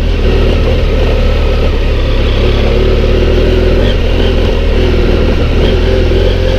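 A trail motorcycle rides off-road over rocks on a mountain pass, its engine droning loud and steady throughout with slight shifts in revs and no pauses.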